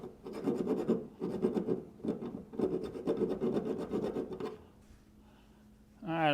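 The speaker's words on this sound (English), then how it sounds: "I'm gonna have to get a file and file this off a little bit because it is rusty" Hand file rasping rust off an old metal tool in repeated rhythmic strokes, close and steady for about four seconds before stopping, then a voice begins.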